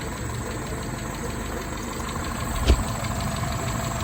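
A Renault R16 engine idling evenly, with a steady low mechanical rumble and a faint rhythmic tick, close and constant, with one brief thump near the end and no voices.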